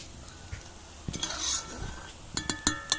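Jhuri snacks sizzle softly in hot oil as they are turned over, with a quiet, steady fry broken by clinks and scrapes of a utensil against the pan.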